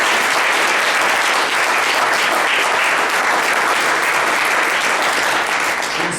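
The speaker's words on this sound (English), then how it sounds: "So I want to give him a special round of applause." Sustained, dense applause from a seminar audience in a hall, steady and loud from start to finish with no talk over it.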